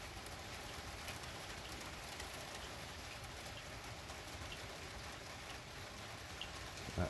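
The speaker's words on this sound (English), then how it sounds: "now the rain is starting to pick up a little heavier" Steady rain from Hurricane Ian falls on an outdoor surface in September 2022, a dense, even hiss of drops close by without letup, with no voices heard.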